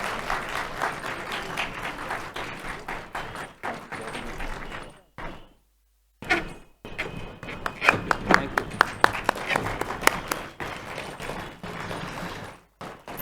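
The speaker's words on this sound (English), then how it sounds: "Please give them a big round of applause" Audience applause welcoming two speakers at a conversation session on stage, steady clapping with a brief silent gap midway, then resuming with some louder sharp claps.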